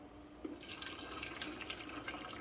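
Pasta water pours and splashes as it is drained from a pot into a sink, a quiet, continuous watery rush with small gurgles and drips close by.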